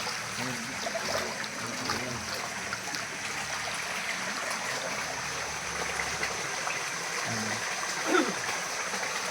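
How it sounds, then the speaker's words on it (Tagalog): Soft, continuous trickling of a shallow stream with light splashes, fairly quiet and close, with faint background voices. "Ito yung tubig papunta sa property."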